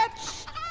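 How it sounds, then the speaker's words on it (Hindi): Chickens clucking in short, close bursts through a brief moment, with no talk over them. "मुर्गियों"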